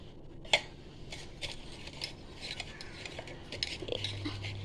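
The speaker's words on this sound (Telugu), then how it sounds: "మసాలా కలిపేసి ఈ పొడి అన్నీ దీనికి మంచిగా కలిపినట్టు ఉండాలా" Masala powder being stirred and mixed into raw chicken for pepper chicken curry: soft, irregular scraping and clicking of a utensil against a bowl, quiet and close.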